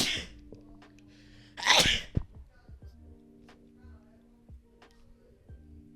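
A single loud sneeze bursts out close by during a podcast conversation, followed by quiet ticking and small background noises.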